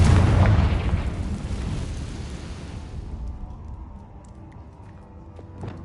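Confringo blasting spell explosion in the Hogwarts Legacy video game: a loud, close boom bursts at the start, then rumbles and decays slowly into a fading low roar with faint scattered debris ticks.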